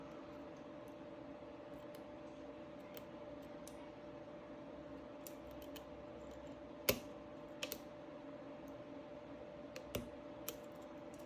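Pins set with faint, sparse clicks as a lock is picked. A few sharper ticks stand out over a quiet, steady hum in a still room.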